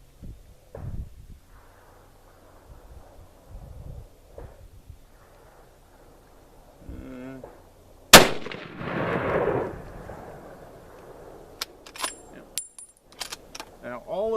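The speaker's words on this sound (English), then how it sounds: "Very gentle touch of the trigger and it shoots." A single sharp Remington 770 rifle shot cracks out midway, loud and close, followed by a rolling echo outdoors, then metallic clicks of the bolt chambering another round.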